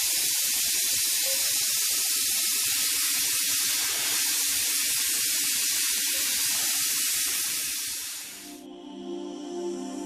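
A tapered end mill cutting metal, driven by an air-powered speed-increaser spindle. It makes a steady, loud high hiss of compressed air and cutting for about eight seconds, then drops away to a lower whine.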